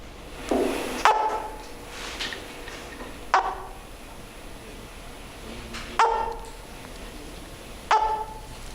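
Four short, sharp chirping calls from a caiman hatchling still inside its egg, spaced a couple of seconds apart, each a brief bark-like yelp over a faint background hiss.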